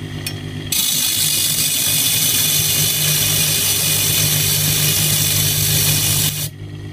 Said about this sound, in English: If I start it off, it spins around very fast, and we just go over the metal with it like this here.